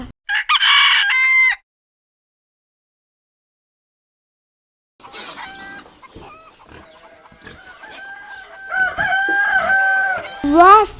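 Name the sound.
rooster crowing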